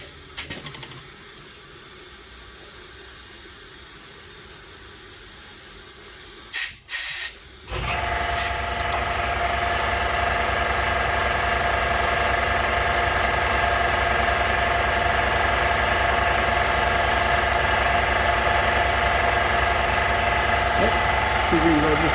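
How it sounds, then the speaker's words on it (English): Machine cutter chamfering a port in a Ford cylinder head during a performance build runs as a loud, steady machining drone with coolant spray hiss, after a brief quieter stretch broken by a short clunk. "I can see it putting a chamfer in there"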